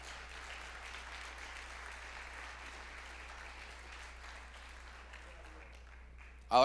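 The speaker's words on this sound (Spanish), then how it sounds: "Dale un aplauso al Señor si se lo quieres dar" Applause from a church congregation for the Lord during a sermon, a steady, fairly faint wash of clapping held at an even level throughout, ending with a brief louder bump.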